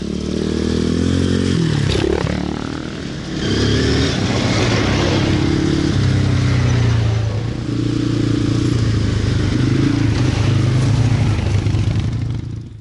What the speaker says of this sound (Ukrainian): І десь там мотоциклісти ганяють.